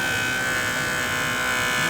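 A JoolTool fitted with a felt wheel and polishing compound works on platinum, giving off a steady, close, high-pitched electric whine with no break over the short stretch.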